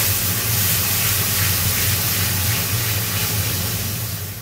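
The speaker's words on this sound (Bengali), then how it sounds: "এখন মশলাগুলো ভালো করে কষিয়ে নিচ্ছি।" Spices being fried for a pabda fish curry give off a loud, steady hiss and spray-like sizzle, with a low hum beneath it, that continues without a break and fades a little at the end.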